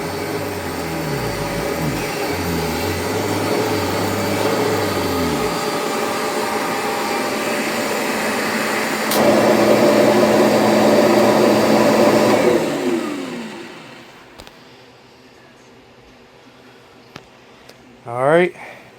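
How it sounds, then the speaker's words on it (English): A Kirby upright vacuum cleaner runs with a loud, steady motor whine and airy roar, surging louder midway, then winds down and shuts off, followed by a few clicks and handling noises. "But this is what it sounds like."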